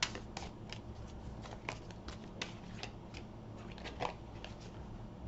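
Hermetic Tarot cards being shuffled and drawn by hand, a quiet series of crisp riffling snaps and soft slides at uneven intervals.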